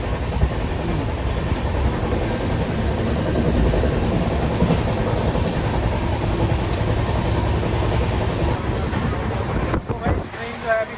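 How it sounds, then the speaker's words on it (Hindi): A passenger train travels in India with a steady loud rumble and rattling wheels throughout, broken by a short drop near the end. "तो भाई ट्रेन जो है अभी फिलहाल चले जा रही है।"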